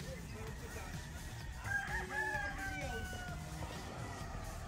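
A straight-breed gamefowl rooster on a game farm crows once at moderate distance over steady background noise and low murmuring voices.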